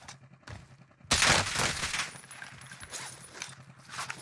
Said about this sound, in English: This guy's shooting off with a loud gun, so people are going to be looking over here.